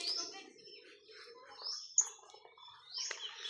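Lovebirds in a backyard give repeated sharp, high chirps and squeaky calls, with a close, bright chirp in the middle and softer chattering between the calls, and nobody speaks.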